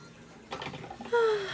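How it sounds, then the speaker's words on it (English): Rose water misted onto a face during a makeup routine gives a short, soft spray hiss near the mic, followed by a brief, higher voiced sound. "we're using some rose water on our faces"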